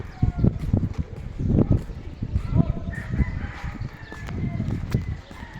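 A rooster crows and fowl call repeatedly in bursts close by, loud and rough-toned, with brief voices in the background.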